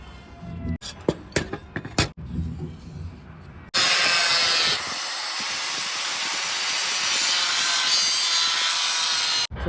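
A hand saw cutting a line into a wooden board for bird-themed tabletop art: a few sharp knocks and scrapes first, then a loud, steady, raspy sawing that runs close up to the end.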